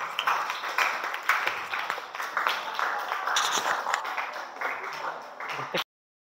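University students in a classroom give a group applause before a presentation, a busy, steady patter of clapping mixed with talking voices that cuts off abruptly near the end.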